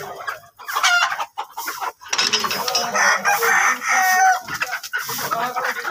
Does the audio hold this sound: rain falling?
no